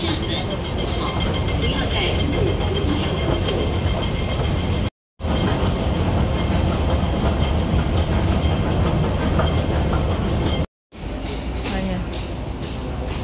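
Hong Kong MTR train riding between North Point and Quarry Bay: a steady loud rumble and rattle of the carriage in motion, with two brief cuts, and people talking underneath.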